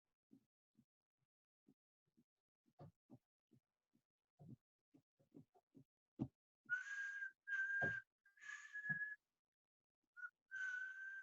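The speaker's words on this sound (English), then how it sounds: "There's my whistling hold music." Whistled hold music plays during a virtual town hall broadcast, a steady sustained tune of several held notes following a stretch of soft scattered clicks and thumps, moderately loud and alone with no talk.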